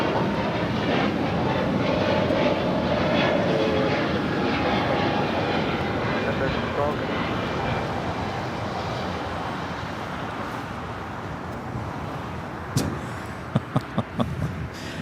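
Airbus A321neo jet taking off at LAX, bound for Chicago: a broad, steady roar of jet engine noise that stays loud and slowly eases over the span, with a few sharp ticks near the end.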